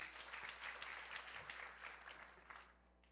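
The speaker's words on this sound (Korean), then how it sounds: "박수 한번 부탁드리겠습니다." An audience at a Daegu citizens' roundtable meeting claps in a quiet hall, a moderate burst of applause that tapers and thins out toward the end, with a low steady hum beneath.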